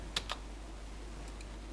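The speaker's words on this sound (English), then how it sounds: "Simply press the window and R key on your keyboard." Two sharp computer keyboard key presses near the start, then a few faint clicks, on a Windows PC during system cleanup shortcuts; close and quiet with no talk.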